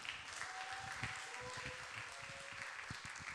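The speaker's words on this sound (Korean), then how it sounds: "앞으로 나오실 때 박수 부탁드립니다." Applause from a young adults' church worship congregation, a soft continuous patter of clapping heard at a distance, fairly faint and steady throughout.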